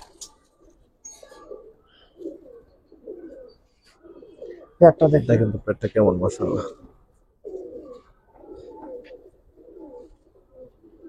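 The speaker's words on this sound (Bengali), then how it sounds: "নটটা প্রচুর ডাকে" A black-necked Giribaz pigeon gives soft, low, rhythmic coos nearby, with a louder burst of cooing in the middle, while someone speaks in between.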